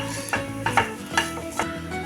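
Grated coconut sautéed in a pan for coconut burfi, with a spatula stirring and scraping in several soft strokes over a low, steady sizzle, close and alone.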